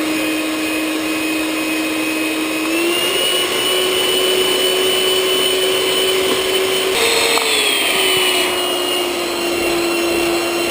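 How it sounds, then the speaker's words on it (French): Egg whites and sugar are whisked over a bain-marie for a lemon chiboust. A loud, steady motor-like whine runs throughout, its pitch shifting slightly partway through, with no voices. "je monte mes blancs en neige avec les 200 g de sucre sur un bain-marie"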